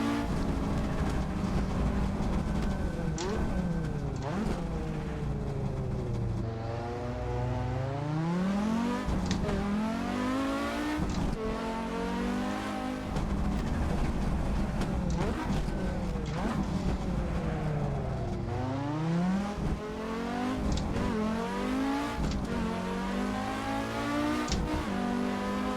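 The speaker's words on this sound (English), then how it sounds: "Dude, this car gets up and goes." A rally car engine in a driving game on the Trento Bondone hill climb, loud and continuous, climbing in pitch again and again through repeated gear changes and revving up, with a voice talking over it at times.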